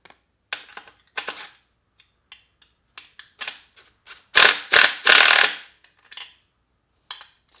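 12mm bolts being loosened on a Honda CR125 motor with a wrench or socket, with bursts of close ratchet clicking in short irregular runs, a louder cluster of rapid clicks midway, and quiet gaps between.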